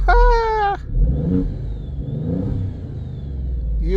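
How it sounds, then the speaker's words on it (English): A twin-turbo car engine revs up into a deep, steady rumble with a rough mechanical whir, loud and close, after a brief tonal whine at the start. "Let's rev it up."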